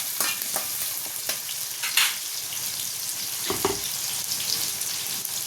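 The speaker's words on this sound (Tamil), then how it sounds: "நல்லா வதங்கட்டும்" Small onions sautéing in a pan for a Tamil onion tamarind curry, a steady soft sizzle with occasional stirring scrapes and clinks, close and fairly quiet, no talking.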